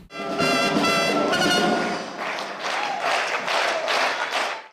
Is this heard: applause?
yes